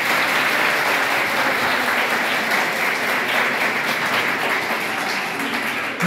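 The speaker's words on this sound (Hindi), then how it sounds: "एक बार जोरदार तालियां आपके टीचरों को।" Loud, sustained applause from a school audience at a government higher secondary school assembly, dense steady clapping filling the whole stretch without pause.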